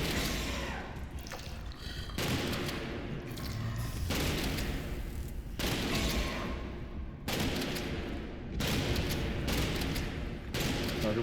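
Shotgun blasts in the horror game Amnesia: The Bunker, a series of loud booming shots at irregular intervals every second or two, each with a rough noisy tail.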